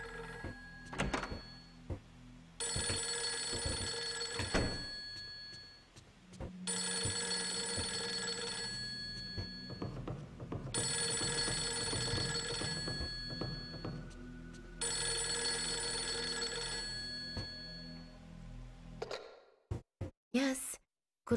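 A telephone rings repeatedly in the horror video game Fatal Frame 3: The Tormented, loud and close, in four long bursts separated by pauses, with a low hum underneath and a few thunks and clicks at the end.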